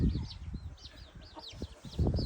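Young Buff Orpington chickens on a farm giving soft, high cheeping calls in repeated short phrases, with low clucking and rustling nearby at moderate volume.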